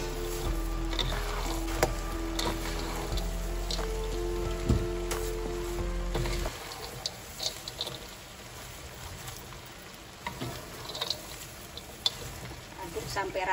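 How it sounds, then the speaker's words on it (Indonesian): Fried tempeh and fried peanuts are tossed into a pan for sweet-spicy dry tempeh, with a loud sizzle and scraping stir for the first half that then drops to softer, scattered rattles and taps. "lalu kita masukkan tempe yang sudah digoreng"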